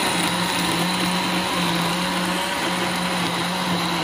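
A kitchen blender whirs continuously, blending banana with ice cream, milk and sugar into lassi, a loud, steady motor drone with no pauses.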